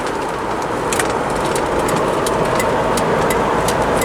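Isuzu MU-7 cruising at highway speed after a gearbox overhaul, a dense steady road and engine roar with light rattles, close and continuous, no talk.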